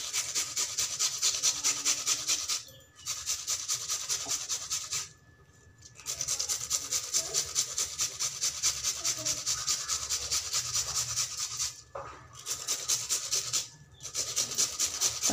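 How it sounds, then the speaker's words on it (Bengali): Two onions rubbed back and forth across a kitchen grater make a steady rasping scrape in long continuous strokes, broken by three or four brief pauses, close and fairly loud with no talking. "দুটো পেঁয়াজ আমি এভাবে করে গ্রেটারের সাহায্যে ঘষে দিয়ে দিব।"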